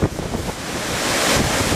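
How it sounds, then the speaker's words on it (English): Strong wind gusts of Hurricane Sandy roar outside a house by trees, buffeting the microphone with loud, rushing, surging noise that builds toward the end. "That gust had to be 70."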